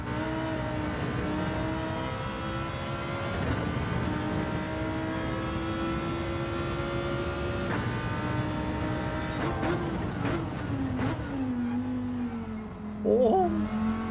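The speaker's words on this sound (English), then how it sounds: "I can still push this Lamborghini." A Lamborghini race car engine in Gran Turismo 7 holds a sustained high drone that rises and falls with revs and gear changes, running steadily throughout with a few brief clicks near the end.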